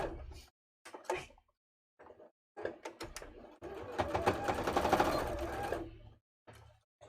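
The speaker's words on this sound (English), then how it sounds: "I'm just sewing together the skirt at the back." A sewing machine stitches the back seam of a skirt for a simple holiday craft, running in short bursts and then one longer steady whirring run, close and fairly loud with quiet gaps between.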